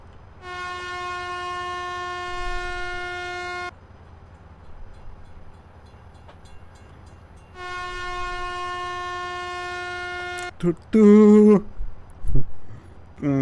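A locomotive in a GTA game sounds two long, loud, steady horn blasts with a pause between, then brief higher tonal squeals and rumbling as the train runs; no talk.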